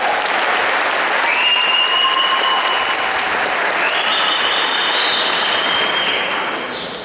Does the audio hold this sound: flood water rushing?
no